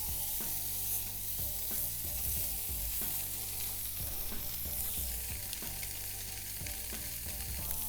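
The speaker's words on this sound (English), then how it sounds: "All right, this pan is super hot, so now we're going to go in with our fish." Catfish fillets searing in a very hot pan, blackened style, giving a loud, dense, continuous sizzle close up, with faint rhythmic background thumps running underneath throughout.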